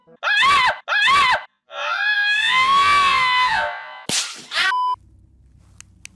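Two short, sharp shrieks, then a long wavering scream and a final strangled cry ring out in a horror video game about thoughtforms, loud and close, followed by near silence with faint clicks.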